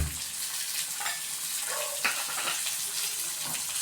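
Chopped green chillies hitting hot oil in a pan while making rava upma, a steady close sizzle with stirring scrapes and brief bursts, no voices.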